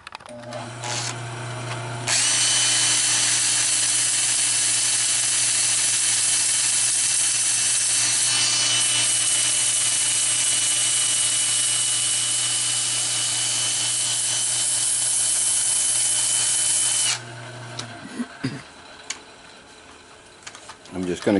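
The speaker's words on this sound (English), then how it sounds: "Time for sanding." A turned birch wood bowl is sanded on a spinning lathe. A loud, steady whirring hiss starts abruptly, holds evenly for about fifteen seconds, then cuts off, leaving quieter motor hum and a few clunks.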